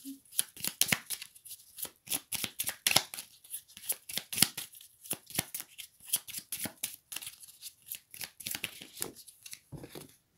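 Oracle cards being shuffled and drawn during a card reading: a long run of quick, crisp riffles and snapping flicks, fairly close and soft, repeating in irregular bursts with no voices.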